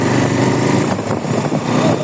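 A 220 motorcycle being ridden, its engine droning steadily and loudly up close throughout with a buzzy, slightly fluctuating tone.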